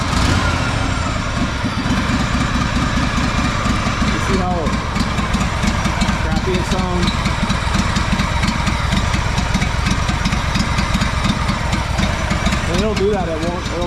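A Honda GXV 610 engine on a Honda 4118 mower runs loud and close, chugging with an uneven, sputtering idle and occasional misfire stumbles throughout, while a person talks over it now and then.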